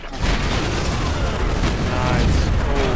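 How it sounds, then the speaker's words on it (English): A big explosion in a 2014 video game campaign, a loud broadband boom that swells early and rumbles on with crackling debris for several seconds, with a voice faintly mixed in. "That was a pretty goddamn epic explosion."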